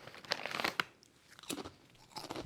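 Crunchy ruffle-cut seaweed chips from a Japanese snack box crunch loudly in a few close bites with quieter chewing between them, and no one talks.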